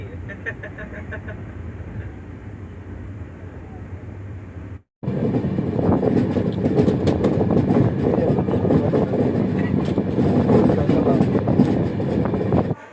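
Saurashtra Mail 22945 pulling into Surendranagar station: a low, steady rumble, a brief drop-out near five seconds, then a louder broadband roar of rattling carriages and wheel noise that continues to the end.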